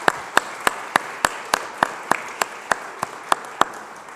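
Steady, evenly spaced rhythmic clapping at a Philadelphia waterfront event honoring the Delaware River Waterfront Corporation team, crisp beats repeating about three times a second over a low crowd murmur.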